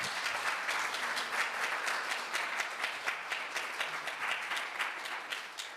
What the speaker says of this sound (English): can I ask everybody to give a round of applause for the 4 leaders